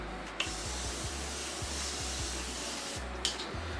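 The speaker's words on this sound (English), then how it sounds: "I'm going to spray my Mario Pedesco." Mario Badescu facial setting spray hisses out in a soft, continuous mist for about three seconds, starting and ending with small pump clicks, close and alone.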